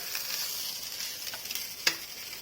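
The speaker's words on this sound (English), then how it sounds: "Then we will add in cooked or boiled rice. And we will stir it well." Cooked rice is stirred in a sizzling pan while making a spicy sizzler, a soft continuous frying hiss broken by light scrapes and one sharper spatula tap near the end.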